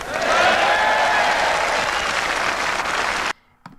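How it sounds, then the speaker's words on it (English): A party conference audience cheers and applauds Neil Kinnock's 1983 Labour leadership acceptance speech, a loud sustained roar of clapping and voices that cuts off abruptly, followed by near silence and a brief knock. "his dexterity of language gets him an early cheer for the suggestion that he and Hattersley will soon be in government"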